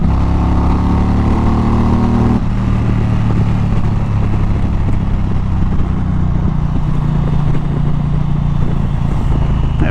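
A Harley-Davidson Road Glide Ultra engine revs steadily around 4,000 RPM with a loud, continuous mid-range drone that shifts in tone after a couple of seconds and then holds, close and alone.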